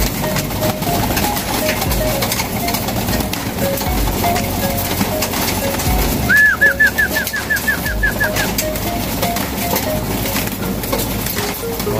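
Racing pigeons in a loft during fly training, with a short run of rhythmic calls rising above a steady engine-like rumble and wind noise partway through.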